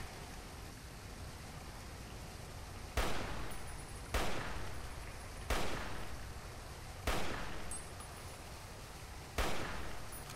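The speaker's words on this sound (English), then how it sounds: "what if I use a sniper now?" Sniper rifle shots in the video game Fallout New Vegas, five loud sharp cracks spaced a second or two apart over a steady hissing background, with no talking.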